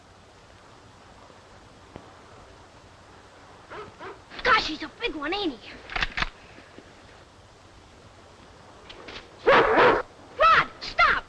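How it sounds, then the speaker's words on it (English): A dog barks and yips in two short bursts, fairly close, with a voice speaking between them over a steady low hum. "It's not a wolf, it's a dog!"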